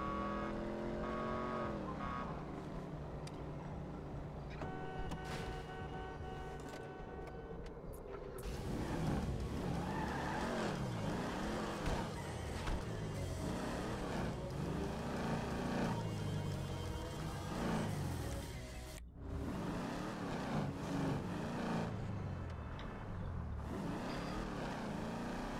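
A car in Grand Theft Auto V drives steadily for the whole stretch, its engine droning with rising and falling revs as it gathers speed, with music and street sounds faintly underneath.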